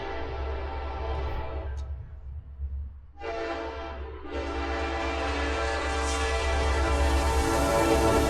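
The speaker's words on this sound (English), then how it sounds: "So here's the train, using the same line that they were using even back then." A train passes on a mountain rail line with its horn blowing in long sustained blasts, a short gap partway through, over a constant low rumble of the cars. It is fairly distant and moderately loud.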